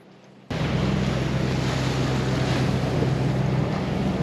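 Steady wind and rushing water against a hull, a continuous broad roar of a sailboat under sail moving across open sea off Southern California toward Ensenada, Mexico, with no voices.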